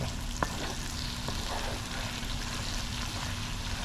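Mango and celery achaar sizzling and frying in oil in a pot, a steady soft crackle with a couple of faint clinks near the start, no voices.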